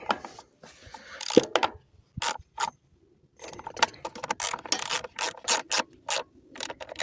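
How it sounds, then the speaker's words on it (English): A hand ratchet tightens the two carburetor mounting nuts on a Kohler Courage small engine, giving close, loud bursts of rapid clicking separated by brief pauses, with no talk. "Get a ratchet and always check the torque by hand."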